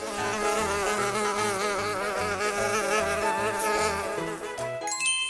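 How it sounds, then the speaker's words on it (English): Insects buzzing in flight, a steady wavering drone over a rhythmic musical backing that runs throughout, with a bright chime near the end. "I is for insects, buzzing, in flight."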